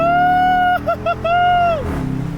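A V8 car engine drones loudly and close, then its pitch dips and rises in quick bursts as it downshifts through the gears before settling into a lower rumble.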